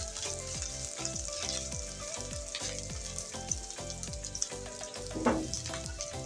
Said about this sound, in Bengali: এই আদা রসুনটা একটু ভেজে নেবে পেঁয়াজের সাথে